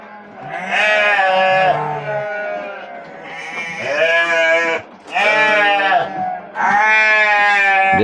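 Unshorn Garut sheep penned together on a breeding farm bleat loudly and close, several long quavering calls in a row separated by short pauses, with no speech.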